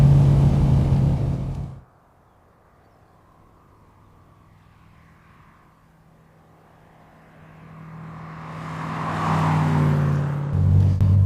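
A 1992 Marcos Mantara convertible roars loudly, fades almost to silence for several seconds, then builds again as the engine climbs back up to a close, strong drone.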